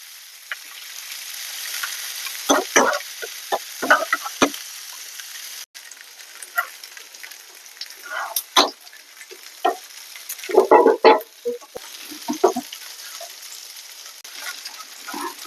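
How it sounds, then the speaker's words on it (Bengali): Onions and ginger frying in a pan for a dried chepa fish shutki bhorta, with a steady sizzle and irregular bursts of stirring and scraping, moderately close, no talking. "একটু লাল লাল করে ভাজে নিবো।"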